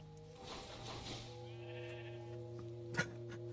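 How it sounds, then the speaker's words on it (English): A sheep in the Minecraft video game lets out a drawn-out bleat over a steady background music drone, followed by a couple of short game sound effects. "Sheep!"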